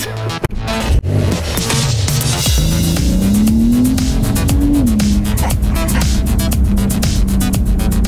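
A sports car with automatic transmission accelerates hard, the engine roar climbing steadily in pitch with a rough, throbbing edge after a few brief knocks at the start.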